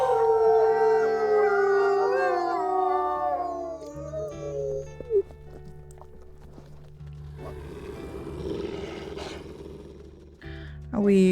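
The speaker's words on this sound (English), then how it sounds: "There are some dispersals howling." Wolves howling in the WolfQuest video game, several long rising and falling howls layered over one another, loud and close at first, then fading into a rougher, noisier stretch of growl-like sound and game ambience.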